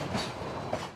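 A coal-fired steam train on the narrow-gauge Cumbres and Toltec Scenic Railroad rumbles steadily across open prairie, a close, continuous rolling clatter of rail wagons with no voices.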